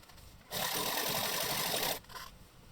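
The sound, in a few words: sewing machine sewing along folded edge of boxer shorts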